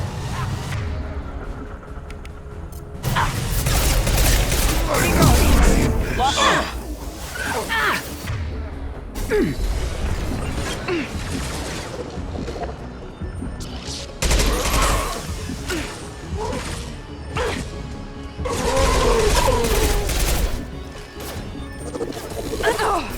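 Mass Effect 2 combat gunfire: bursts of shots and crashing impacts come in loud clusters with whooshes in between, and voices talk over the fighting.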